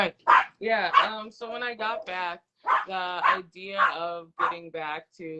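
A dog barks and yips repeatedly in the background of an interview recording, short bursts recurring throughout while a person keeps talking over them.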